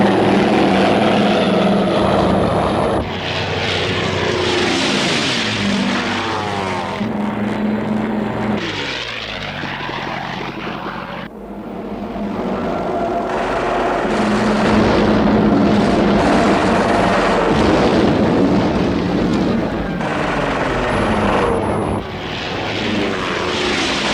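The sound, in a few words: aircraft engines, enemy planes approaching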